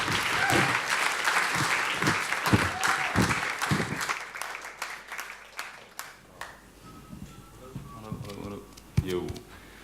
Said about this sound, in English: Please give a warm applause for Arend Maatkamp.